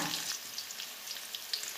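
Cassava stirred as it fries in a pan, a soft steady sizzle of hot oil with small scraping clicks from the stirring, close and continuous with no talking.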